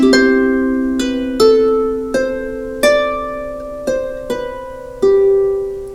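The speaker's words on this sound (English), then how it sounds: "because I could just do it all single notes and it would sound like this" A harp plays a slow melody as single plucked notes, eight clear strikes each ringing and fading before the next, close and unaccompanied.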